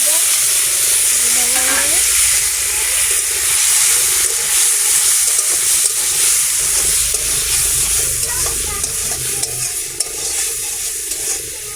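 Prawns fry in hot oil in a kitchen pan, giving a continuous loud sizzle and hiss with occasional stirring scrapes, steady from start to finish.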